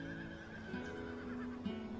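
A horse gives a short whinny over a movie soundtrack. It is fairly faint beneath sustained tonal music, with a couple of brief snorting accents and no talking.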